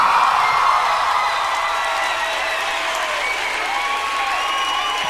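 A concert crowd at the Motor City Show gives loud, continuous applause mixed with cheers and whoops during a band's performance with a guest musician. The clapping roars steadily throughout.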